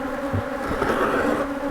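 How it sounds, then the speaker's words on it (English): Bees buzz close by at an open hive, a dense, wavering hum that rises and falls as they move around near the listener. "these bees are after me"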